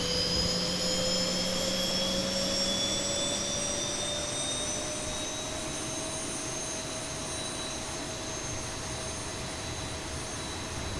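A Boeing 737 jet engine spools up during start in the X-Plane 11 flight simulator with the Zibo mod, a loud continuous roar carrying high whining tones that slowly rise in pitch throughout.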